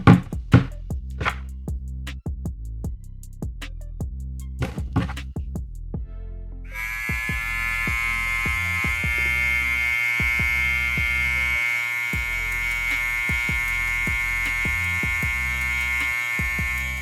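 A Trisan electric hair trimmer runs with its blade removed, a steady loud motor buzz starting after several seconds of handling clicks and knocks and continuing unbroken to the end.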